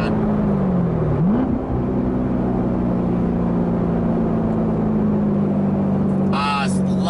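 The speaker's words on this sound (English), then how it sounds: "Love the sound of this car." A 2016 Chevrolet Corvette C7 Z51 V8 with an X pipe and secondary cats deleted rumbles steadily up close, a deep engine drone with a brief rev partway through, with a voice speaking over it.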